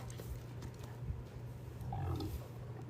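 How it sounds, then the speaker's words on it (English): A dog makes a low grunting, snorting noise that sounds almost pig-like, brief and faint against quiet room background. "that was the dog, not me, just so you know."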